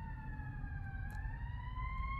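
A wailing emergency siren with steady rising and falling tones, heard continuously over low rumbling traffic noise, moderately distant.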